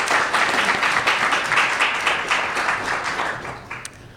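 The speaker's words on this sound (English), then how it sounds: "A round of applause, I think," An audience at a myeloma information session applauds, a dense, even wash of clapping lasting several seconds before gradually thinning out.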